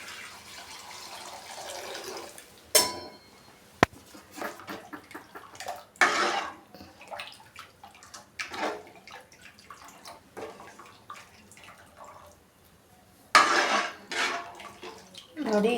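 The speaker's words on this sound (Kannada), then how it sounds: "ನೋಡಿ, ಇಷ್ಟು ನಾನು ನೀರು ಹಾಕ್ಕೊಂಡು ಹೋಗ್ತೀನಿ." Water is poured into mango rasam cooking in a pot on a kitchen stove, with splashy pours, clinks of utensils against the pot and scattered drips. The sounds are fairly quiet and come in irregular bursts.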